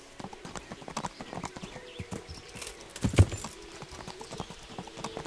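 Horse hooves clip-clop steadily across ground in the video game Kingdom Come Deliverance, a run of close, fairly distinct footfalls with one louder thump near the end and no voices.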